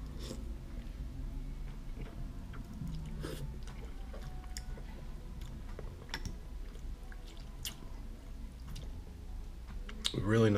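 Thick Ottogi Yeul ramen noodles being chewed up close, with wet, squishy bites and occasional slurps spread over several seconds and a few quiet clicks.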